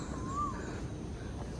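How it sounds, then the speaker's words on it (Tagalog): A single short bird whistle rises and falls early on, over a faint, steady hush of breeze, on a street in Singapore. "Puro huni ng ibon lang tsaka simoy ng hangin naririnig ko."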